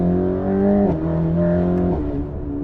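A Mercedes-AMG GT Black Series in comfort mode passes close by, its exhaust a loud, steady engine drone with two brief dips as the note shifts, then fading slightly at the end.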